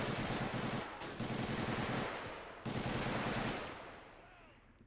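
A Thompson submachine gun in a video game fires in long rapid bursts: two sustained volleys and then a third that trails off, loud and close, with no talking.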